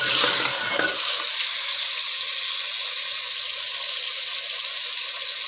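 Beef trotters frying in a pot give a loud, steady sizzle with a brief clatter of stirring at the start, then an even hiss throughout.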